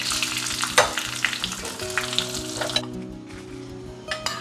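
Dried red chillies and curry leaves sizzle in hot tempering oil for a Kerala-style Onam sadya kalan, a steady close crackle with sharper pops and a brief stir, growing quieter toward the end.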